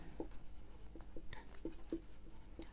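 A pen writing on paper while solving equations, soft scratchy strokes in short irregular bursts, close and quiet.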